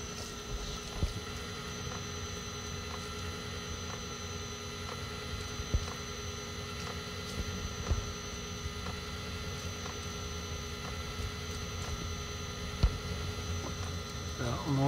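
A Webasto Thermo 90 diesel heater starting up: a steady low mechanical hum with faint ticking and pump-like clicks running throughout, fairly quiet and continuous.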